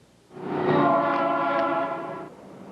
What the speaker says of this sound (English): A high-speed train made its debut here with a VIP trip to Vancouver